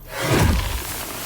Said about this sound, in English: Made like a toilet flushing sound and like there's green smoke everywhere.